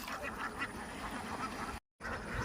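A flock of ducks quacks in a village field in Kerala, faint calls set in constant outdoor hiss, with a brief dropout near the end.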